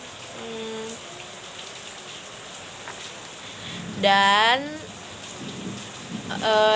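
Steady rain falls as a constant, soft background hiss beneath a person's speech.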